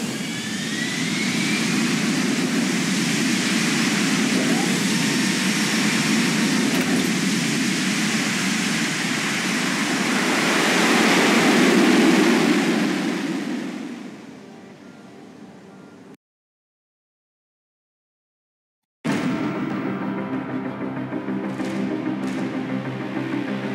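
Steady loud roar of an aircraft's jet engines in flight in the video game Deus Ex: Human Revolution, with a swell near the middle, fading before a gap of silence, then resuming.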